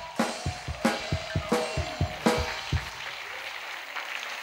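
A church congregation at an evangelism service claps in unison, a steady run of sharp, fairly loud group claps that fades into a murmuring room tone near the end.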